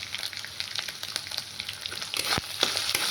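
Greens cooking with tomato and salt in a frying pan sizzle softly, with scattered scraping clicks and taps from stirring that grow busier toward the end.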